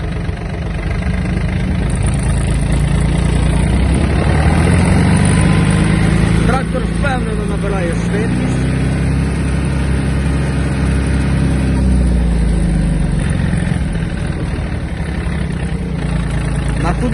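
A Yanmar F-255 Japanese mini tractor's diesel engine chugs steadily and loud, rising as it pulls away in third gear, with someone talking over it.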